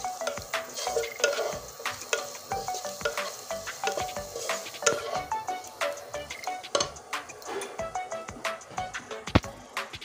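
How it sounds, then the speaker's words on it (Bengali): A spoon stirs ground coriander and chili powder into egg and Maggi noodles in a pan, giving a quick rhythm of scraping clinks against the metal over a soft sizzle. "এবার সুন্দর করে নেড়ে নেব।"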